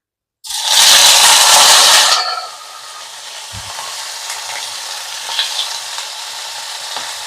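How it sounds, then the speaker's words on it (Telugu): Adamant creeper (nalleru) is dropped into a pan with a little oil and bursts into a loud, close sizzle for about two seconds, then settles into a quieter, continuous frying hiss with faint stirring scrapes. "ఇప్పుడు నల్లేరు వేసేసుకుందామండి ఇవైతే చక్కగా వేగాలి"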